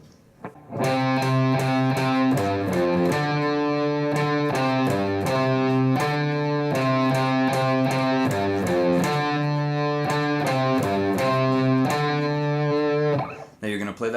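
Slowed-down riff on distorted electric guitar, picked out as a steady run of separate chords and notes in a repeating pattern, loud and close, with a brief lead-in and a clipped ending.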